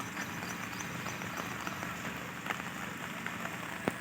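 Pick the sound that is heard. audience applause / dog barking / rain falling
rain falling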